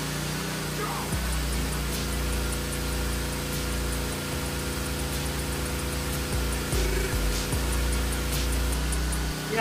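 An electric grinder whirs steadily beside a PK160A inverter welding generator, a loud continuous drone with shifting pitch and a few brief clanks.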